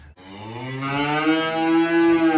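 A six-month-old Jersey steer on a small farm gives one long, loud, close moo that holds steady for about two seconds, with a rich, strongly harmonic tone.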